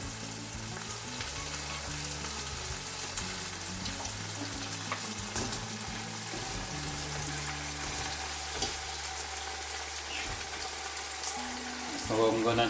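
Meat searing and frying in a pot for biryani with ginger, a steady close sizzle and crackle running throughout, with occasional stirring clatter and a faint voice in the background.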